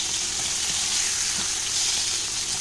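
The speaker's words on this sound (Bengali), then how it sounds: "এই মশলাটা আমি একটু ভেজে আর তুলে নেবো" Spices fry in hot oil with a steady, even sizzling hiss, moderately loud and close, with no other sounds over it.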